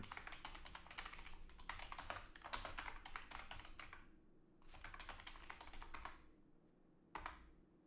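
Rapid typing on a computer keyboard while writing game code, dense clattering keystrokes in bursts with short pauses between them, close and fairly quiet, no talking.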